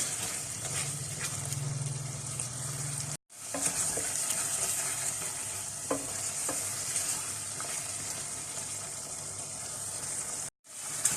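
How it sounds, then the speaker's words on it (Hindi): Mutton pieces stir-fried in a karahi for Peshawari mutton karahi, with a steady continuous sizzle and frequent stirring scrapes, briefly broken by two short silences. "अब मैं इसकी भुनाई स्टार्ट करती हूँ"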